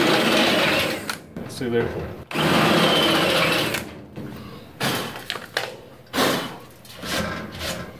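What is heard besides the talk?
drill bit drilling through metal, Ford Bronco tub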